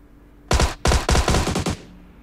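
Bursts of automatic gunfire in PUBG Mobile, a battle royale shooter: three or four loud, close rapid-fire volleys across about a second and a half, then quiet.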